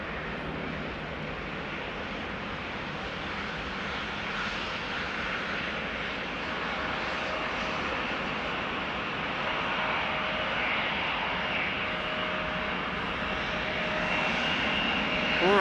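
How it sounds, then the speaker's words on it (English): Dash 8 turboprop airliner departing at Amsterdam Schiphol Airport, a continuous engine drone that builds slightly louder over time, heard alone and fairly close. "And now the Dash 8 is also dashing away."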